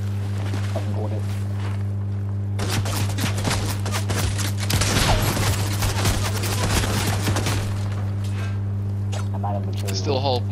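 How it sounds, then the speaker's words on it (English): Rapid bursts of gunfire in Fortnite, aimed at a snowman, crackle loudly over a steady game hum for several seconds, with players talking over it. "They're gonna shoot the snowman, I can guarantee it."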